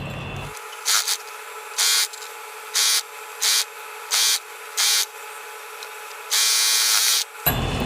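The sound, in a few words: sewing machine stitching the folded hem of a baby dress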